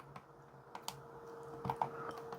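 Keys pressed on a KCP-P4100Q wireless card terminal keypad while entering a business registration number, a few quiet separate clicks and a quick pair of taps near the end over faint room hum.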